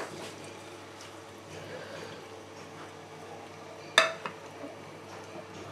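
Finely chopped onions frying quietly in leftover kofta oil, a soft steady sizzle with a sharp clink of a utensil against the pan partway through.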